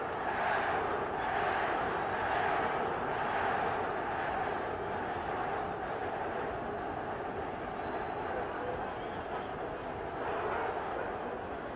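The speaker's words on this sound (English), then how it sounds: "I guess you can hear the crowd whooping it up." Arena crowd at a Roberto Duran versus Esteban De Jesus boxing match, a sustained roar of cheering and whooping that stays loud and steady throughout, with a commentator's voice faintly mixed in.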